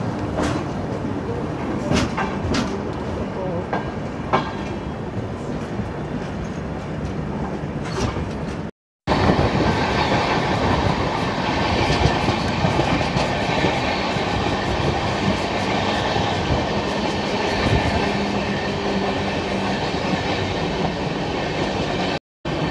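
16351 Balaji Express passenger train rolling on rails after leaving Guntakal station, a steady loud rumble with rhythmic wheel clatter and wagon rattles throughout, briefly cut out twice.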